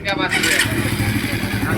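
A motorcycle engine turns over and runs in a repair shop, a continuous rough low rumble heard close up with voices and workshop noise over it.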